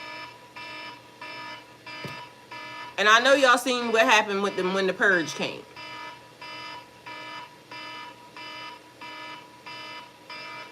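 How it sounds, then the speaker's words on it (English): A steady repeating alarm beeps in regular bursts throughout, moderately loud, while someone talks over it in the middle stretch. "And the alarms go off."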